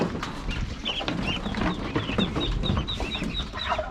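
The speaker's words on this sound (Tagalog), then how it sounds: "Rumarami na naman itong pato natin." Ducks in a crowded pen chatter with repeated short quacks and clucking calls, close and busy, over constant background noise.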